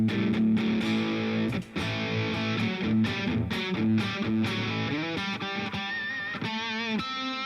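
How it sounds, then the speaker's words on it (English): Electric guitar run through an overdrive pedal stacked on distortion, playing loud, saturated sustained chords and notes with gritty harmonic buzz, continuous with brief gaps between strums and no voice. "Let's throw the overdrive back in"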